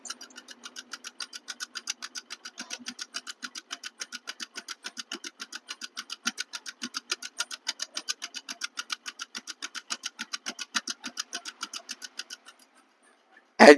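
A 2018 Bajaj Discover 125 cc motorcycle engine idles with a steady, even ticking thump, close and moderately loud, running alone for most of the stretch before cutting out near the end.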